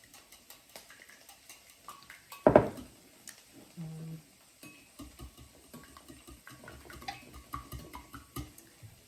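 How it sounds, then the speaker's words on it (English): Two eggs whisked in a bowl while making shrimp fried rice: faint, quick, rhythmic clinking taps, with a louder knock near the start and a brief quiet hum. "I have 2 eggs, and I'm going to whisk them"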